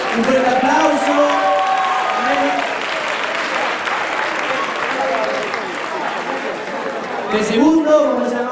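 Applause from a crowd at a Galician scout festival prize announcement, steady clapping filling the clip with a few voices calling out near the start and end.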